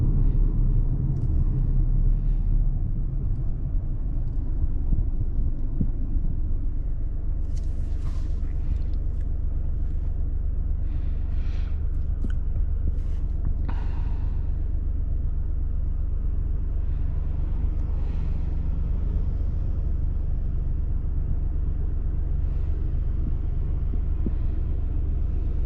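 A 2022 Ford Escape S in sport mode accelerating from a light throttle tip-in, heard from inside as a loud, steady low engine rumble and road drone with faint higher whirs, no talk.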